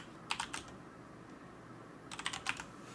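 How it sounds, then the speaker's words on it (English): Someone types on a computer keyboard in two short bursts of quick, light clicks, with a quiet pause between them in an otherwise still room. "I'm literally typing Trograntica."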